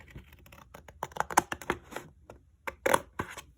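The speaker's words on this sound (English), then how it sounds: "I'm going to take my scissors and I'm going to cut along that blue line" Scissors cutting through folded paper in a series of crisp, uneven snips and rustles, close and fairly loud, with short pauses between cuts and no talking.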